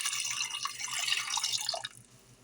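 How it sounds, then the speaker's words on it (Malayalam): Water poured into a Kerala-style mango curry for cooking, a close broadband splashing and trickling for about two seconds before tailing off into quieter dripping. "ഈ കറിയിലോട്ട് വേവിക്കുന്നതിന് ആവശ്യമായിട്ടുള്ള വെള്ളം ഒഴിച്ചു കൊടുക്കാം."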